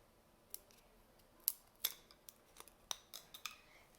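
Scissors snip through material for a homemade dollar-store fidget toy, giving a series of sharp, close, quiet cuts spaced irregularly, with no talking.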